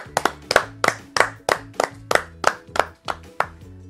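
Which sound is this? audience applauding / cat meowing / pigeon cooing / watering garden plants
audience applauding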